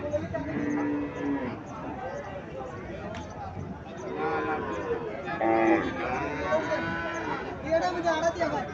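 Local cows moo at close range at a cattle market in Cumilla, several drawn-out calls rising and falling, while people chatter nearby.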